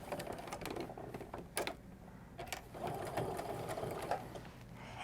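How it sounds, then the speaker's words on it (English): Sewing machine stitching a quarter-inch seam along quilting fabric strips, a steady close mechanical whirr with brief pauses and changes in speed, heard alone with no talk. "So that way I'm sewing that 1/4 inch seam all the way down."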